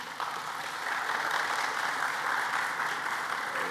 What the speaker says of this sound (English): Could we give them a good round of applause?